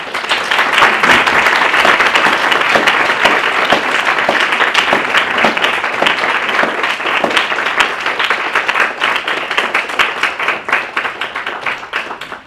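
A reading audience applauds to welcome poet Eileen Myles, a steady, loud wash of many hands clapping that holds throughout and tapers slightly at the end.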